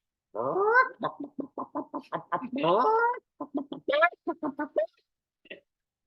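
A human voice imitates a hen, a string of short rhythmic clucks broken by a few rising squawks, close and alone.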